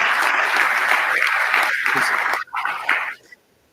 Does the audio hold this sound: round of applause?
yes